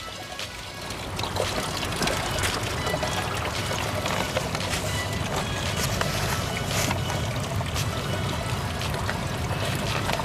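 Cocopeat, vermicompost and vermiculite potting media are mixed by hand for seedling trays, producing a steady, continuous gritty rustling and shuffling throughout, close and fairly loud with no pauses.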